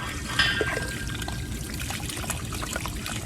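Running water streams steadily over a freshly dyed shirt being rinsed by hand, a soft continuous trickle and splash close by with no talking.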